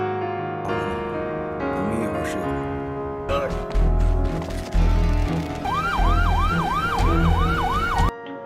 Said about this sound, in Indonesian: Mendengar suara sirene polisi, si Wilpan langsung kabur.